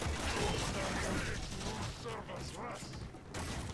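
Dense, continuous gunfire and blasts from the video game Warframe, loud and busy throughout, with a voice talking over it.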